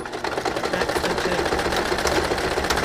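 A sewing machine stitches in reverse while making a party fascinator, giving a steady, rapid mechanical whir with fine rhythmic ticking, close and fairly loud throughout, with no talking.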